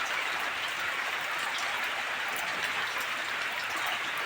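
Steady rain falls in windy bad weather, a dense even patter of drops on surfaces that holds at a constant moderate level, with no one speaking.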